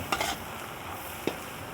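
Masala for an egg curry stirred and frying in a pan, a steady close sizzle with two sharp scraping strokes of the spoon, one near the start and one later.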